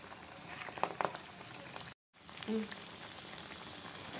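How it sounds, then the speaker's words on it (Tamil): Vadai frying in hot oil in a kadai, a soft bubbling sizzle with a few sharp crackles and pops, fairly quiet and close, briefly cutting out mid-way, with faint voice traces. "கடாய் வச்சுட்டு அதில் எண்ணெய் விட்டுருக்கேன் எண்ணெய் காஞ்சி வந்துட்டுருக்கு இப்போ நம்ம ஒவ்வொரு வடையாக சேர்த்துடலாம்"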